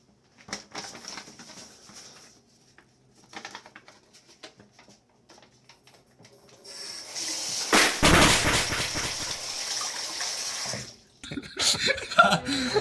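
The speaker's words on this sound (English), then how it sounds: "Luffy, use water gun!" A gushing water-stream sound effect for Luffy's water gun in a One Piece parody: faint scattered noises first, then a loud, broad rushing spray surges in midway and runs for several seconds before cutting off.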